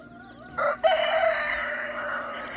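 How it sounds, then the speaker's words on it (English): A rooster crows loudly nearby on a homestead, one long drawn-out call, with chickens and other fowl clucking in the background. "I got a bunch of chickens that are ready to run around"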